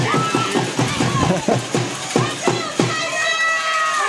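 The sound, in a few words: crowd noise at a high school baseball game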